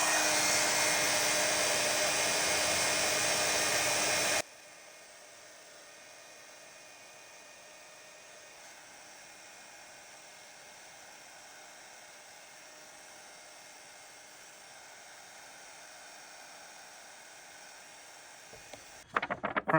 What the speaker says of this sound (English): And then I will heat set.